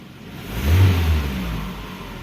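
A noisy Toyota Camry engine revs up, swelling to a loud, rough peak and then settling into a steady, slightly lower drone, heard close with no talking.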